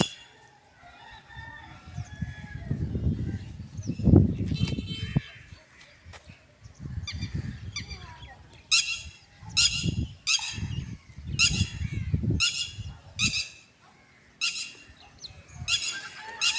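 Early morning in a village, birds chirp in quick repeated bursts while chickens cluck and a rooster calls nearby, loud and faint calls mixing over a quiet rural background.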